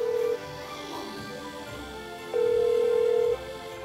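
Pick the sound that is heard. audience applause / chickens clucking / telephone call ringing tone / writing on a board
telephone call ringing tone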